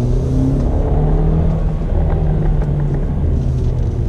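A 2018 Hyundai Elantra GT Sport engine drones loud and close, its low rumble rising and falling slightly in pitch as it revs.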